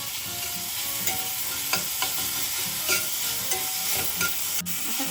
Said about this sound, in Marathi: हिरवी मिरची कच्ची आहे त्यामुळे मी तुपावर थोडीशी परतून घेते